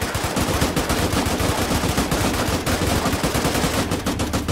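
Rapid machine-gun fire from a tank crew in Arma 3's Spearhead 1944 DLC, a loud, unbroken stream of fast shots lasting the whole stretch.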